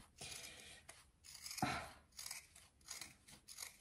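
Scissors trimming the corners of fabric while sewing a small seatbelt shoulder pad, with several close crisp snips and a brief rustle of cloth between cuts, with no talking.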